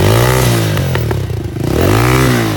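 A 2018 Boom 125 lightweight sport motorcycle runs after its electric start, its engine close and loud with a steady, buzzy idle that dips briefly and then picks back up.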